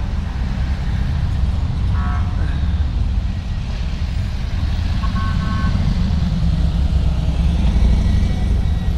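Support vehicles roll past during the Police Unity Tour memorial ride in Gloucester, Virginia, a loud continuous rumble of engines and road noise with a few short beeps and toots mixed in, and a voice speaking faintly underneath.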